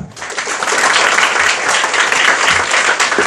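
A classroom audience at a school event claps loudly and densely for a student, a short burst of sustained applause close by.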